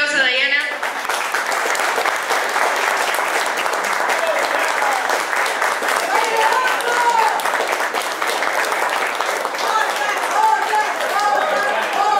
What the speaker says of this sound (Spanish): Vamos a darle un fuerte aplauso a Dayana.